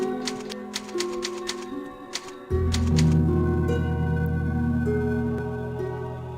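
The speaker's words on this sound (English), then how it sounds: "And then a typewriter next to it." Typewriter keys in the video game Resident Evil 4 clack in a quick run of crisp taps, then give way to a louder sustained tonal swell that slowly fades.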